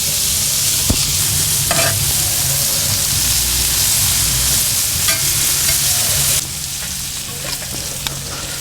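Steak and fajita vegetables sizzle loudly and steadily on a Kamado Joe grill, a dense broadband hiss with a few clicks of turning and stirring, easing slightly near the end.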